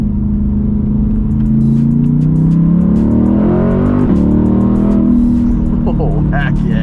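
A Corvette engine revs up hard under acceleration, a loud rising drone that climbs in pitch, dips briefly as the gear shifts instantly, then pulls again, heard from close up inside the car.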